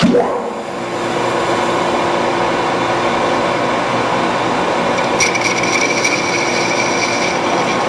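Lathe cutting tool scribing a reference line into a metal barrel end, a continuous scraping, rasping hum over the running machine, with a few brief sharp squeaks near the end.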